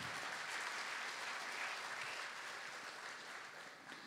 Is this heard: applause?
yes